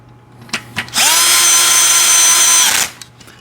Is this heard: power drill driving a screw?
yes